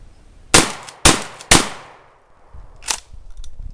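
Stevens Model 320 pump-action shotgun fired rapidly, three loud close blasts about half a second apart, then a fourth a bit later after a pause, each followed by a short ringing decay.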